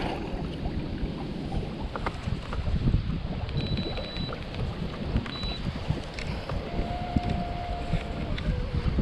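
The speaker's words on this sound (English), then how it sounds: "Just a little bit windy." Wind blows steadily over a Florida lake during kayak bass fishing, a constant broadband rushing that stays loud throughout, with faint water sounds and no talk.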